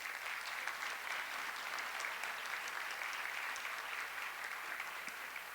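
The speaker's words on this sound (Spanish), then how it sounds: "le demos un fuerte aplauso" Sustained audience applause at the closing ceremony of a congress, a dense, steady wash of many hands clapping throughout with no break, moderately distant and even in loudness.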